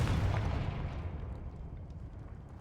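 Confringo fire spell explosion in Hogwarts Legacy, one loud booming blast at the start that rumbles and slowly decays over the next couple of seconds, heard alone.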